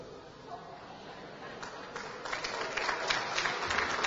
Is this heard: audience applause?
yes